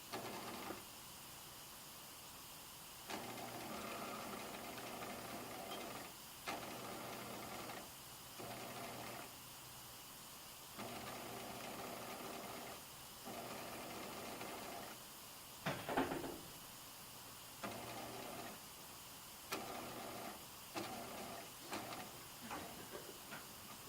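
A sewing machine topstitches a fly zipper through all the fabric layers, running in steady bursts of mechanical whirring separated by short pauses, with a few sharper clicks near the end.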